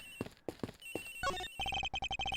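Cell phone ringing in the Ace Attorney Investigations video game, a repeating electronic ring tone in regular short bursts, preceded by a brief rising chime, with a few soft voice-like sounds at the start.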